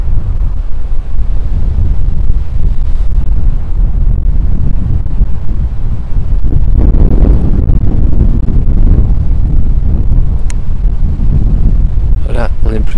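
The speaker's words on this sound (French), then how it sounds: "Tellement de vent" Strong wind blowing at the edge of a forest, a loud, steady low rumble buffeting the microphone for the whole stretch, with a voice partly buried beneath it.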